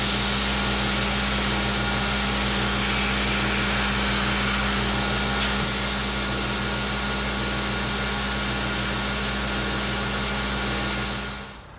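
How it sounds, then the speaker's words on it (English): A belt grinder trims a Kydex sheet into the rough outline of a knife blade, giving a steady, loud, close motor hum with abrasive hiss that runs unbroken, then stops abruptly at the end. "trims the Kydex using a belt grinder, shaping it roughly to the profile of the blade"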